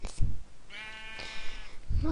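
Sheep bleat in Minecraft, giving a couple of near, wavering baas over faint game ambience with a voice talking briefly around them.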